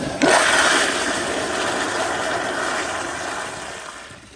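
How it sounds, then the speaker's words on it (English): A 1999 American Standard Madera toilet flushes loudly and close up, a sudden rush of water followed by a steady roaring swirl that slowly eases as the bowl drains. "here's another flush"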